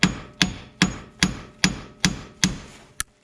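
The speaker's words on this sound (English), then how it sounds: "I'm going to hit the knuckle right here and pull up at the same time" Eight sharp metallic hammer blows land at a steady pace on a steering knuckle of a Lexus GS during lower ball joint removal, close and ringing briefly, with no voices.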